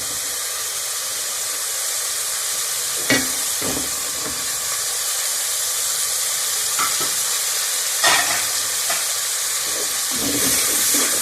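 Chopped tomatoes being stirred into frying masala for vegetable pulao, a steady loud sizzle and hiss with occasional scrapes and clinks of the spoon against the pan, no voices.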